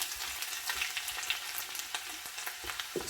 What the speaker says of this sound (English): I'm adding half a teaspoon of mustard seed, half a teaspoon of cumin seeds, and then I'm adding, straight after that, I'm adding my garlic